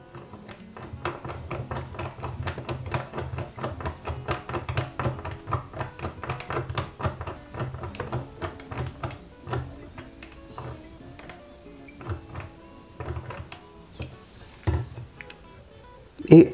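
Small screw being driven into the rear of an Ecto-1 model car chassis, close rapid clicking and ratcheting ticks in bursts, with short pauses between.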